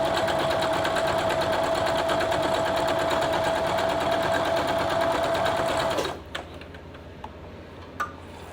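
A sewing machine stitches a quilt block in a steady fast mechanical rattle for about six seconds, then stops, leaving a few faint clicks and handling taps.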